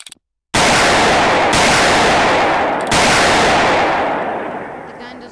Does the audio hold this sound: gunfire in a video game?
yes